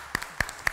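A few sparse claps from a studio audience on a morning talk show, three separate sharp hits spaced evenly apart, fairly faint.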